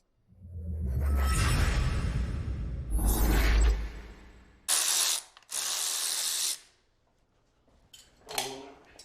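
Hand tools at work while a blower camshaft goes into a small block Ford Windsor engine, with close ratcheting clicks, whooshing bursts like spraying air, and short mechanical rattles separated by quiet gaps.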